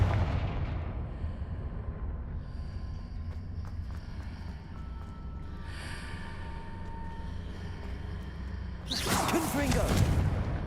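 Confringo spell explosions in Hogwarts Legacy, a dense, loud rumbling blast bed with whooshing bursts and a sharp, bright eruption near the end, dense game sound throughout.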